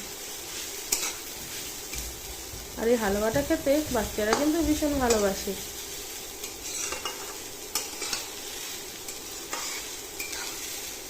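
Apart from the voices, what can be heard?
carrots frying and stirred in ghee in a wok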